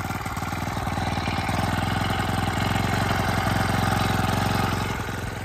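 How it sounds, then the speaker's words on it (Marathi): A small machine engine runs steadily after being started, with a loud, continuous close-up chugging drone that swells slightly midway. No voices are heard. "आता चालू करतो. मशीन जरा स्टार्ट झालं."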